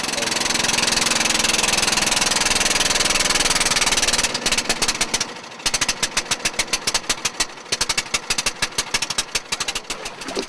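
A fishing boat's engine drones steadily and loudly during an island boat ride, then shifts into a choppy, rapidly pulsing chug.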